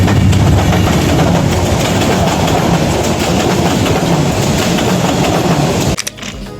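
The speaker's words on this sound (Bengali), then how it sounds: "এই এখন ট্রেন আছে, আমরা দেখা যাচ্ছে। ট্রেনের ভিডিও করতেই হবে।" A passing train rumbling loudly and continuously close by, a dense rolling roar of wheels and carriages with rhythmic clatter that cuts off near the end.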